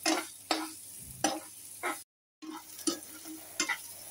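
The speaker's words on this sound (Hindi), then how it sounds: "अच्छे से पकाना है प्याज को" Onions frying in a pan while being cooked to golden for a sweet bitter gourd curry, with steady close sizzling broken by repeated stirring scrapes and a brief silent gap midway.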